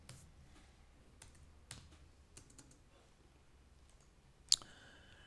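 Scattered, soft keystrokes on a computer keyboard while writing CSS code, a few faint clicks spaced apart, then one sharper, louder tap near the end.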